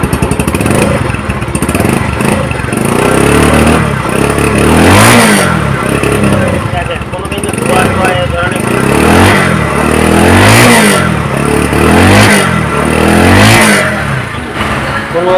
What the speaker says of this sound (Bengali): আর যদি সাইলেন্সারের সাউন্ড আপনাদেরকে শোনানো হয়